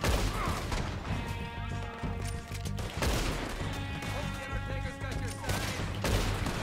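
Gunfire in Red Dead Redemption 2: several sharp shots crack out at irregular intervals over a steady music bed, with faint talk in the background.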